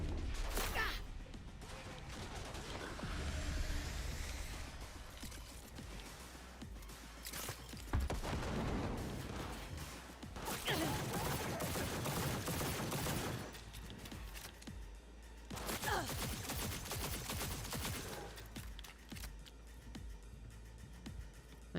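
Gunfire in the video game Cyberpunk 2077 comes in repeated bursts of rapid shots and crashes, fairly faint overall, with a voice briefly speaking between volleys.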